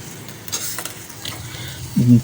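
A spoon gently stirring boiled rice through sugar syrup for sweet zarda pulao: soft scraping and wet shuffling in a pot with a faint sizzle, quiet and close, ending in a brief low thud.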